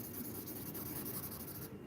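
Pen or pencil scratching across paper during a fantasy drawing, a steady rubbing stroke sound close up with repeated short strokes, no talking.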